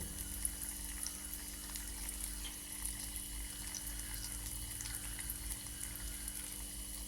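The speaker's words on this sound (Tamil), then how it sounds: "பாருங்கள், கொதி கொஞ்சம் கொஞ்சமாக குறையுது." Oil boils in a pot on a stove, giving a steady, close bubbling hiss with faint crackles that holds even throughout, with no talking.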